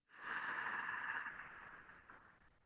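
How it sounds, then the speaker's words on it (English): Ujjayi breathing, a single slow constricted-throat breath with a soft oceanic hiss, close and quiet, holding steady then gradually fading. "So breathe in ujjayi"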